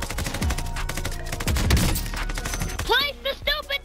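Rapid bursts of gunfire from a Call of Duty Warzone match, loud repeated shots in the first half giving way to sharper, spaced cracks with ringing tails near the end.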